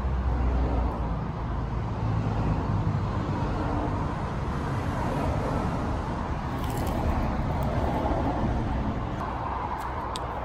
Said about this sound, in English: I just want to apologise for the noise of the cars